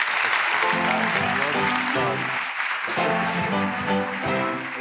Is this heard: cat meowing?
no